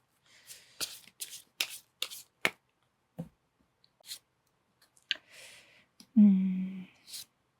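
Tarot cards shuffled by hand in quick riffling bursts, crisp papery flicks and taps spaced out, then a longer whooshing riffle near the end, close and clear with no talking.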